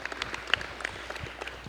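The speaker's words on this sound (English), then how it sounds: "everybody give themselves a round of applause just for being here today" An audience applauding at the start of a moderated conversation event, heard as faint, sparse scattered claps in a quiet room.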